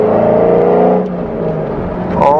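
An exotic sports car engine revs hard under a partial-throttle pull, its loud, rising note climbing steadily and then jumping sharply near the end as it moves up through the gears.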